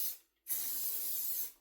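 Hairspray is misted onto lifted hair in two short hissing bursts, close and crisp, with a brief silent gap between them.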